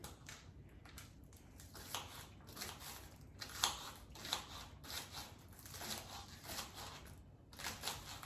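A knife cuts vegetable tips finely for a chicken stir fry, giving a run of quiet, quick crisp chops and slicing crackles in a steady, close rhythm with short pauses.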